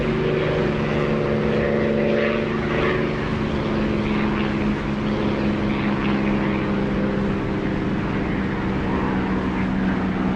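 Propeller aircraft engine droning steadily during a landing approach in a combat flight simulator, a loud continuous hum with stable tones throughout, no talking.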